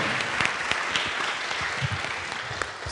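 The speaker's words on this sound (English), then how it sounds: "that's worth a round of applause" Steady applause from an audience, a dense wash of clapping that holds at an even level for a few seconds without a break.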